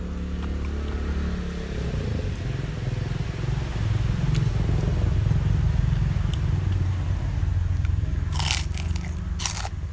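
Crunchy biting and chewing while eating Thai papaya salad with pork rinds, outdoors with a steady low rumble of passing traffic or engines underneath, the crunches close and continuous with a couple of sharper crackles near the end.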